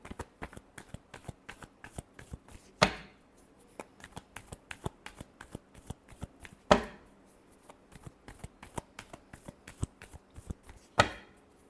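Tarot cards are shuffled in a quick, steady run of close, crisp flicks, broken by three louder riffling bursts where the deck is bridged or cut, with no voices.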